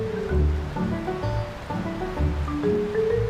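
Water waves lap steadily in the VR game Walkabout Mini Golf, a soft continuous wash blended with gentle tonal game music throughout.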